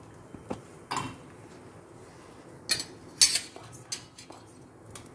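Garlic bread being flipped in a pan, giving a few scattered clinks and scrapes of a utensil against the cookware at close range, with quiet gaps between them and no talk.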